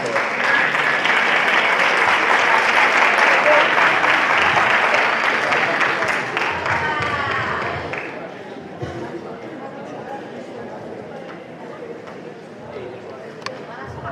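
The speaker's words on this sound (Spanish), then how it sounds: "Un aplauso" Audience applause at a Human Library sociocultural event, loud dense clapping for several seconds that fades out midway, followed by quieter room noise and faint voices.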